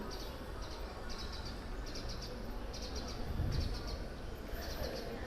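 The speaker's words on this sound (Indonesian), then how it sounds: "ada berbagai burung dengan bunyi-bunyiannya." Faint, high-pitched recorded rainforest bird calls from Malaysian Borneo chirp in quick repeated bursts, a few seconds apart, over a low, steady background rumble.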